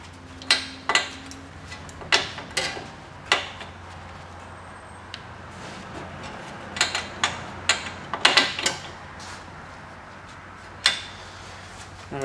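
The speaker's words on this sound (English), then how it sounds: "These bolts are on there really tight, so it will take a little bit of force to get them off" Wrench clicks and metallic ratcheting while loosening tight bolts on a 2016 Camaro SS, sharp irregular ticks and clanks spaced through the clip over a quiet background.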